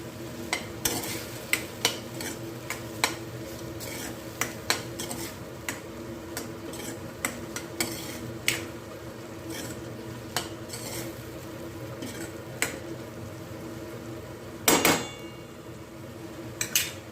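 A spoon stirs tomato chutney with coriander powder and salt in a pan, sounding as repeated scraping clinks over a faint sizzle, with a louder clatter near the end and no talk.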